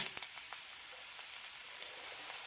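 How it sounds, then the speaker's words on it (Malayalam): Chopped garlic frying in a teaspoon of oil in a pan, a soft, steady hiss with faint scattered crackles, quiet and close. "കടയിലേക്ക് ഒരു ടീസ്പൂൺ എണ്ണ ഒഴിച്ചിട്ടുണ്ട് ഇതിലേക്ക് കുറച്ച് വെളുത്തുള്ളി അരിഞ്ഞത് ഇടാം"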